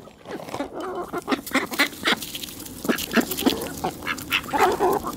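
Ducks quacking close by in a series of loud, uneven calls, overlapping at times, with no talk.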